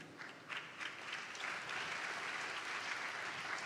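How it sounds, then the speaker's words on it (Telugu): A church congregation applauds during a sermon, a steady, dense round of clapping from many hands that builds slightly and holds at moderate, roomy loudness. "చప్పట్లు కొట్టారు కదా."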